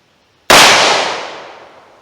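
A .38 Special +P Buffalo Bore round fired through a chronograph from about seven yards, one sharp, loud gunshot with a long fading echo trailing off.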